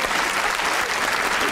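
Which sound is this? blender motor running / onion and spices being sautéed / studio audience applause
studio audience applause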